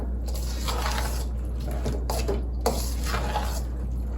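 Seasoned ingredients are mixed by hand in a bowl with a utensil, making repeated scraping and clinking strokes in an uneven rhythm over a constant low hum.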